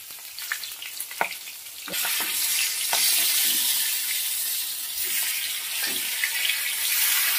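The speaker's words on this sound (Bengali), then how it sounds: "হলুদ লবণ মাখানো কাতলা মাছের মাথাটা এবার ভেজে নেব" Catla fish heads rubbed with turmeric and salt go into hot oil, starting with a few clinks and taps, then a loud, steady sizzle that continues close by with occasional stirring.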